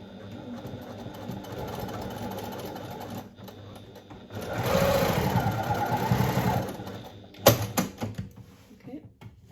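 A sewing machine basts fabric in place with a narrow seam allowance, running in steady bursts with a pause, a louder stretch in the middle and a few sharp clicks near the end, with talk at times over it.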